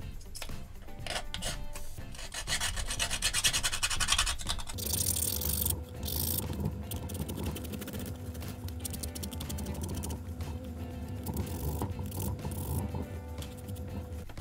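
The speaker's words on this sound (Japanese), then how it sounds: "こういうのはヤスリで綺麗に落とします。" A hand file scrapes burrs off a 3D-printed PLA plastic part, producing rapid rough rasping strokes, close and fairly loud, continuing steadily throughout without talking.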